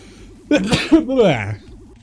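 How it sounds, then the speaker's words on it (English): A single sneeze bursts out near the microphone against a steady humming background tone, ending within about a second. "Bit of a sneeze coming on there."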